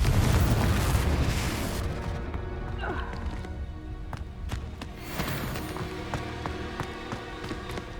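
Confringo blasting spell going off in the video game Hogwarts Legacy: a loud booming burst that rolls off into a rumbling decay, followed by clattering game effects and background ambience.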